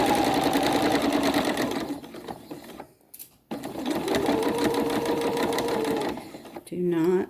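A sewing machine stitches a drawstring bag seam in a steady, fast mechanical whir, running loud and close, pausing briefly midway, then resuming as a voice talks over it.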